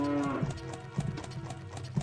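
A cow in Ocarina of Time 3D Master Quest gives a short low moo at the start, which is then overtaken by rhythmic game music with regular beats.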